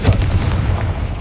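Confringo fire spell blast in the Hogwarts Legacy video game, a single loud, close, booming burst with a short rumbling tail.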